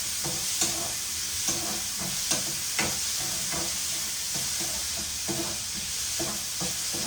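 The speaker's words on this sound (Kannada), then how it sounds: "ಚೆನ್ನಾಗಿ ಫ್ರೈ ಆಗಲಿ" Tomatoes and green chillies frying in a pan, a steady soft sizzle broken by repeated stirring scrapes and taps at an even pace, heard alone.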